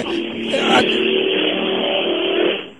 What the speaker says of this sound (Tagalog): dumaan yung toda, ang ingay, oh.